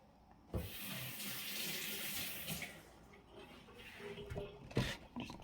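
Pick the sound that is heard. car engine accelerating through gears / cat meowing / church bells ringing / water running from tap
water running from tap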